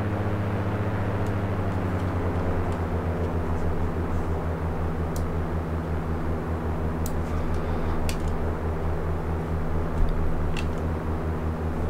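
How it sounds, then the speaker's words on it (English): Airplane taking off in the Flight Sim World simulator over the Lake District, a steady droning engine hum with a constant low tone, no voices, a few faint ticks near the end. "at the minute we're taking off towards the south"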